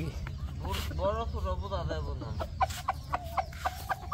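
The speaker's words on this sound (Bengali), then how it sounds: "একবার দেশি মুরগ মুরগি" A native village chicken clucks in short, rising, repeated calls close by, followed by sharper scattered clucks, with people talking nearby.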